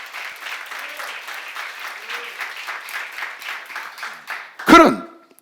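A church seminar audience claps in a steady rhythmic patter, moderately close, ending with a sharp loud knock or bump near the end.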